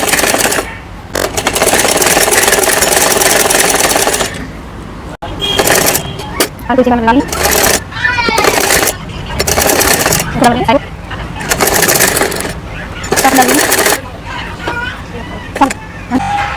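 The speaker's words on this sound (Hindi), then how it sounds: "यहाँ से हम सिलाई लगाना शुरू करेंगे" Sewing machine stitching the sleeve of a child's night suit, bursts of steady motor-driven stitching lasting a few seconds each, broken by short pauses, close and fairly loud.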